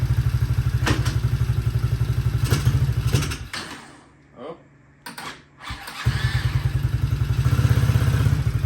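A 125cc Apollo Commander automatic scooter engine idles close by with a fast, even putter, dips and thumps briefly as it is shifted into drive, then resumes its steady chugging.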